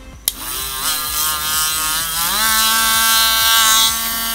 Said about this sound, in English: So I have my drill right here. It's plugged in and everything, and I'm just gonna turn it on